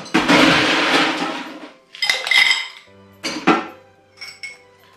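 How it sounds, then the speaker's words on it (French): Ice is dropped into a cocktail glass for a gin-based Tom Collins variation: a loud clattering tumble followed by several sharper glassy clinks and knocks that fade out, close and without talk. "À ce moment-là, je vais rajouter ma glace."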